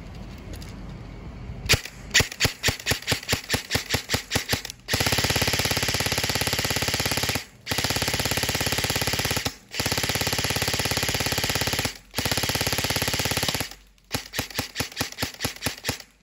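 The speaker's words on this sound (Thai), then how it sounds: "เวลาเล่นเนี่ยจะเป็นอย่างนี้นะเพื่อนๆนะยิงไปปั่นไปยิงไปปั่นไป" An E&C 827 Gen2 airsoft rifle with a 9.5-inch front set fires on full auto. A quick clicking of the magazine being wound comes first, then loud, close, sustained buzzing bursts of fire broken by brief pauses.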